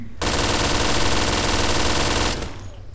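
Sustained automatic gunfire from a gun in a Minecraft zombies game, a loud continuous rapid burst lasting over two seconds before cutting off abruptly.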